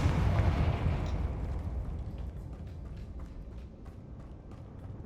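A Confringo spell blast in the Hogwarts Legacy video game, a loud booming explosion up front that rolls into a long, fading rumble with scattered crackles.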